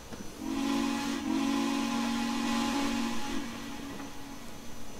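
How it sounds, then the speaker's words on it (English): A steam whistle from a Texas State Railroad 2-8-2 locomotive in Trainz 2019 sounds one long, loud, steady hissing blast lasting about three seconds, then tails off into steam hiss. "Pretty much the same thoughts across the board for all the whistles."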